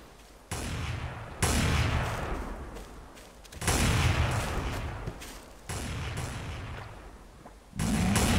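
A shooting video game fires in four or five loud, separate bursts of heavy gunfire, each cutting in abruptly and fading before the next.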